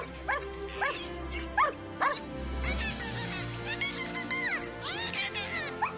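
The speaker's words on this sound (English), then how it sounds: "We have a canine Zeus" A police dog gives several short barks and yips at moderate distance, with whimper-like tones between them over a faint murmur of background voices.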